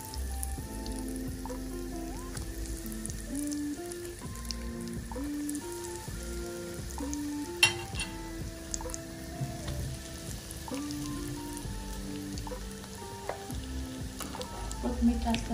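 Fish cutlets fry in a pan with a steady, faint sizzle and scattered pops and drips, running under background music throughout.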